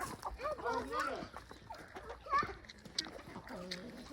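Farm chickens at feeding time, scattered clucks and bird calls close by mixed with people talking, with a few brief splashing and rustling noises.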